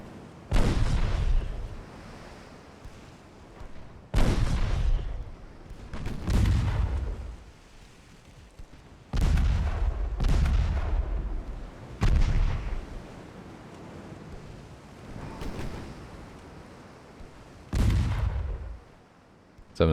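Naval guns fire in the warship game Ultimate Admirals: Dreadnoughts, set in 1893, a cruiser battle. About seven deep booming salvos land every two to three seconds, each with a rumbling tail that fades before the next.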